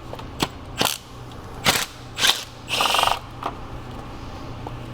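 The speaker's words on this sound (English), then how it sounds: "let's go ahead and remove the intake manifold bolts" 10mm intake manifold bolts coming off a 2016-2022 BMW X1 2.0L B46/B48 engine, a handful of short sharp ratchet clicks and metallic snaps spaced apart, close and fairly quiet with no talk.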